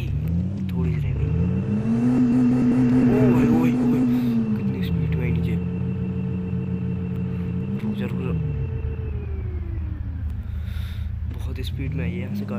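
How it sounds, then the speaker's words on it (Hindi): A Mahindra Thar engine revs hard as it drives up a slope, the pitch climbing and dipping through repeated surges over a steady loud rumble, with faint whispering voices nearby. "बहुत स्पीड में आई है यहाँ से गाड़ी तो"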